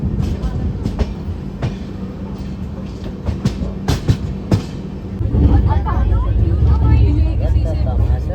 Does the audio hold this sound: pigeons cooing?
no